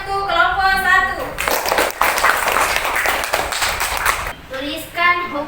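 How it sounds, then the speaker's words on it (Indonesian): A classroom of students claps for group 1 during a peer-teaching Islamic jurisprudence lesson, a loud three-second burst of hand claps framed by children's voices before and after. "Tepuk tangan untuk kelompok 1."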